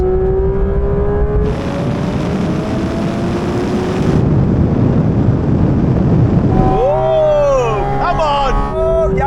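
Porsche 911 GT3 RS, GT4 RS, GT3 and GT4 cars accelerate hard in a rolling half-mile drag race from 60 mph in third gear, with loud sustained engine roar and rising whines shifting pitch, plus wind noise throughout.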